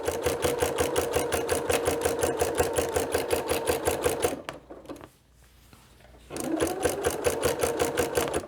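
A sewing machine stitches through quilt layers, a fast, steady mechanical chatter that is close and loud, briefly stopping for about two seconds before starting up again, with no talking.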